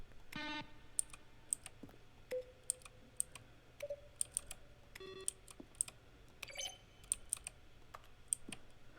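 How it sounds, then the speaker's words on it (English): Button presses from The Stanley Parable, each a keyboard keystroke blended with a short synthesized beep, repeating at irregular intervals over a quiet, steady background hum. "Each sound is a mix of a keyboard stroke and a synthesized tone."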